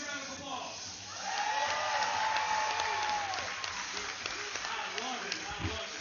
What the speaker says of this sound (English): Let me get a big round of applause.